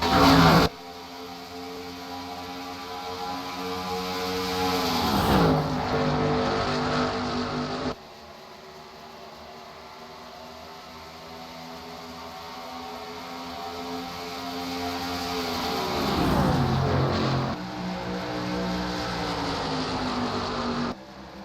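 Stock cars race at Pocono in a 2009 Cup Series event, engines roaring loud and continuous with two sharp pitch-bending drive-bys as cars sweep past, plus an abrupt cut midway; no talk.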